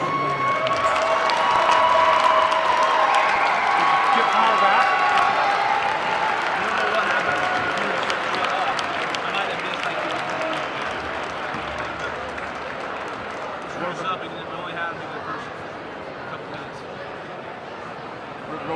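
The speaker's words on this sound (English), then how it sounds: "Let's give a round of applause to our coaches." An audience at a high school boys basketball event applauds the coaches with a broad wave of clapping and some cheering that starts strong and slowly tapers over nearly twenty seconds, with voices audible in the crowd.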